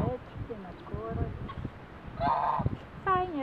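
Farmyard geese give a few short nasal honks, fairly close and moderately loud, between quiet talk and shuffling sounds; ducks and chickens are kept nearby.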